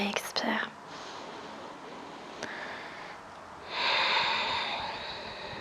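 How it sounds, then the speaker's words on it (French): A long, deep breath drawn in and then released during a yoga session, heard as a close, airy rush that swells, pauses briefly, then returns louder on the exhale. "Dernière longue inspire et expire."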